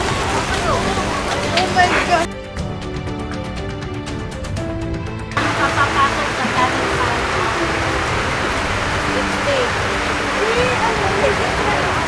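Steady rain pouring down in a hiss that fills the scene, loud and continuous, with a short interruption partway through and faint voices mixed in.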